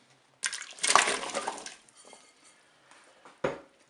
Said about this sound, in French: Je dépose les légumes dans la cuve.